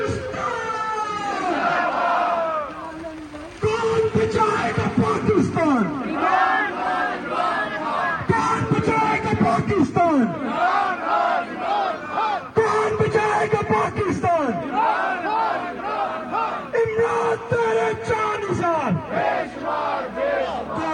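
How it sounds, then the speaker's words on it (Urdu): PTI protesters outside the Pakistan High Commission in London chant slogans in loud rhythmic unison, a leader's call answered by the crowd in repeated waves for the whole stretch. "وزیر اعظم شہباز شریف اور رانا ثناء اللہ کے خلاف نعرے لگائے گئے۔"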